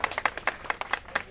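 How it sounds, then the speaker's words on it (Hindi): A group of nurses claps for themselves, a scattered run of sharp hand claps close by, uneven in rhythm and roughly a dozen strikes before fading. "तो एक ताली एक बार अपने लिए बजा लो, आप अपने लिए तो तेज बजा लो"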